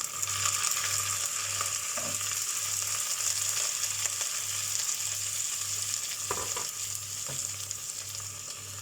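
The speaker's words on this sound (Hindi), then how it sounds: "अब इसमें कैप्सिकम डालेंगे।" Chicken fried rice frying over high heat with capsicum being added, a steady loud sizzle with occasional stirring scrapes and a low rhythmic burner hum running underneath throughout, no voices.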